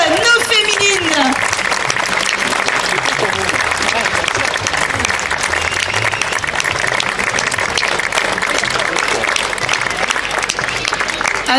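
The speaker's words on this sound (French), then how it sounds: "tonnerre d'applaudissements pour nos féminines" A crowd claps loudly for the women competitors at a Stihl Timbersports women's cup in Sarrebourg, sustained close applause throughout, with a voice talking over it and cheers breaking through.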